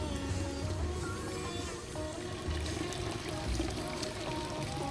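Steady broadband rush of falling water from a waterfall feeding a lush bamboo oasis, continuous and fairly loud throughout, with no pauses or talk over it.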